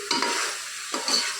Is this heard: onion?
yes